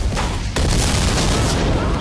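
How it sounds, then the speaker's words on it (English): Explosions and gunfire in the Godfather II video game, a dense roaring burst that drops briefly then returns as sustained loud blasts throughout. "Explosions happen"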